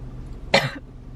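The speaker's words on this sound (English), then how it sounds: "Gotta get the coughs out, as per usual" A single short cough, close and fairly loud, breaks an otherwise quiet background.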